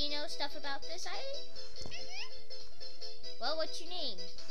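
A cartoonish cat meows several times in quick, high-pitched calls, interleaved with a child-like voice talking in the game Angry Birds Quest.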